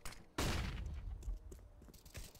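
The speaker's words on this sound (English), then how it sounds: "Have a burst fire on close range." Short bursts of close-range video game gunfire, starting with a loud, sharp onset and continuing as a dense, rapid rattle of shots that fades and flares through the clip.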